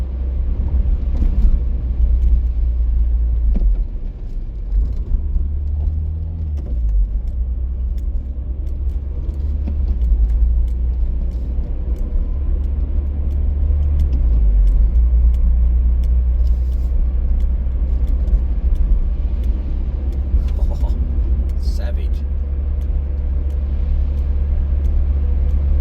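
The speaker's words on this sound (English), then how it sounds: "Jeez, that wind." During stormy weather in the Adelaide Hills, a car is driven while wind buffets it, heard from inside as a heavy, continuous low roar and rumble with surging gusts. Faint rattles and clicks sit over it, and no voices are heard.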